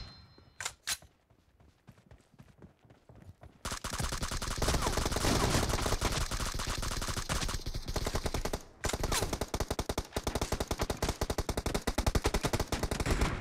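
M416 rifle fire in a shooting video game: a few scattered single shots first, then dense, continuous automatic bursts that stay loud and close for most of the stretch, with a brief break partway through.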